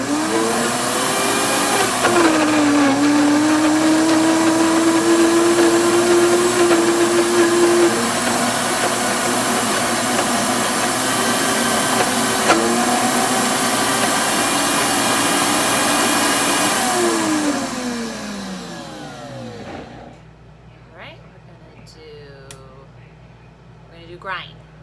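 A food processor blends vegan blueberry cheesecake filling, a loud steady motor whir with shifting pitch under talk, running for about seventeen seconds before spinning down and stopping, leaving quiet clicks.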